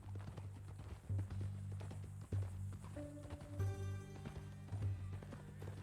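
Horse hooves clip-clop in a steady walking rhythm, fairly close, with a few accented strikes beneath a low droning background and a brief musical tone near the end.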